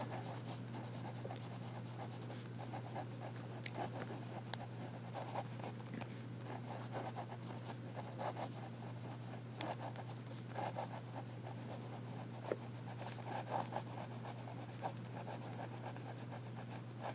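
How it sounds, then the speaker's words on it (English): Vintage Parker 21 fountain pen nib writing in reverse on paper, giving a faint, steady scratching with small repeated strokes under a constant low hum, no voices. "And it does do the reverse writing with no problems at all."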